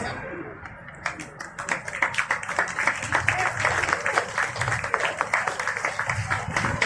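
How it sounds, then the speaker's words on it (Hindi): Outdoor applause at an Independence Day dog show builds after a second and continues steadily, many hands clapping at a moderate distance amid crowd murmur and a few bird calls. "जोरदार तालियां इन सभी डॉग्स के लिए।"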